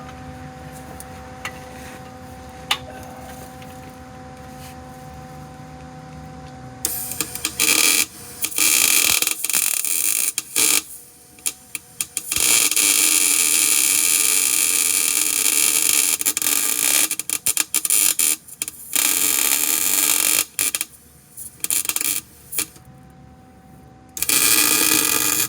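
Gears in a Bronco front differential are welded where oil still seeps out, a loud, harsh, crackling arc buzz that comes in long bursts with brief gaps, after a quieter stretch of low machine hum and small clicks.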